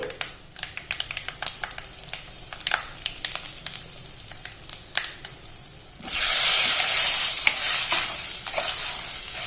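Dried red chilies, turmeric and asafoetida frying in oil: sparse crackles and stirring clicks at first, then a sudden louder, steady sizzle takes over for the last few seconds.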